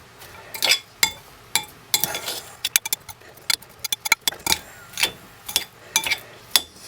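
Utensil scraping and clinking against a bowl while stirring a spinach and feta filling with black pepper, a steady run of sharp, close clicks and scrapes with no talking.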